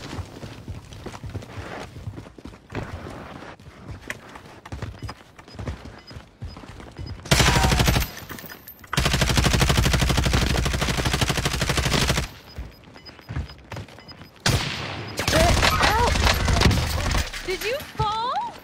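Video game gunfire comes in dense rapid bursts, loud and close, with long automatic volleys separated by quieter stretches of footsteps and movement, while players talk over it.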